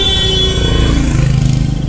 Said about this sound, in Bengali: বিকট হর্ন দিয়ে তীরের বেগে ওভারটেক করে চলে গেল এক মোটর বাইক